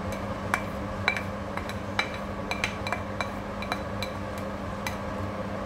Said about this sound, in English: Add the chopped onions and ginger and just mix.